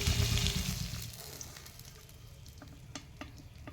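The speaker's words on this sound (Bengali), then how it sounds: "মাছটা আমার ভাজা হয়ে গেছে" Fish frying in a pan (kadai) gives a loud, close sizzle at first that settles into a quieter crackle with scattered pops and stirring clicks.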